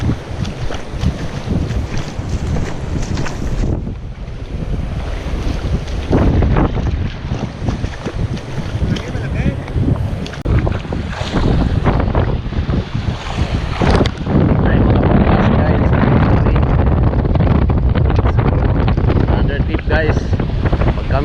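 Steady wind gusts buffet the microphone on a windy morning shoreline in San Juan, Batangas, with waves rolling in underneath, a continuous loud roar throughout.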